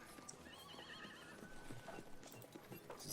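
Horse hooves clip-clop steadily beside a faint whinny in a tabletop role-playing game soundscape, a continuous low-level ambient bed with no talking.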